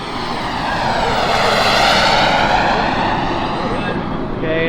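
A turbine jet aircraft makes a low pass, its loud whining roar swelling toward a peak near the middle and then easing off as it moves past.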